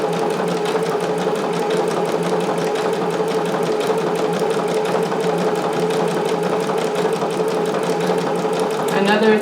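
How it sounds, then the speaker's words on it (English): Sewing machine running a decorative stitch, a steady close mechanical whir with a rapid even rhythm throughout. "before you start stitching like this with a decorative stitch"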